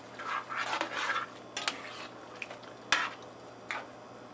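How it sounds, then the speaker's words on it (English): Cut okra being stirred into a pot of West African chicken groundnut stew, a spoon scraping and clinking against the pot in a few soft, uneven strokes, fairly quiet. "we're going to add our 1 pound of cut okra. I'm going to stir that all around"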